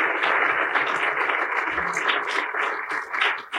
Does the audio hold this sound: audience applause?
yes